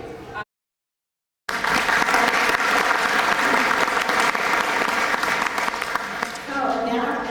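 Audience applause at an owl festival, steady dense clapping from a crowd after a brief silent gap, with some voices mixed in near the end.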